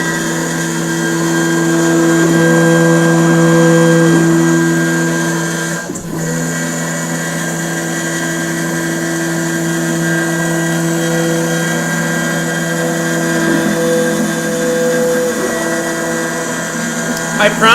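A milling machine cuts polycarbonate with a loud, steady whining drone and layered harmonic tones, briefly dipping midway before resuming, with pitch shifts as the feed changes.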